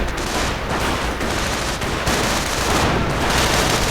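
Sustained rifle and machine gun fire from a World War II style war video game battle between German and American riflemen, a dense, continuous barrage of overlapping shots at steady loudness with no speech.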